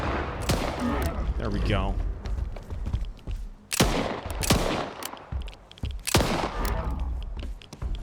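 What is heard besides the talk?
grenade explosions in a video game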